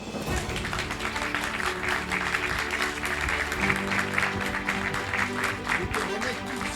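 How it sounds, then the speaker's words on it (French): Applause from an audience at an environmental awards ceremony as a presenter is called up, steady moderate clapping throughout, with a low hum and some voices mixed in. "Je vous demande d'applaudir Xavier Passemard"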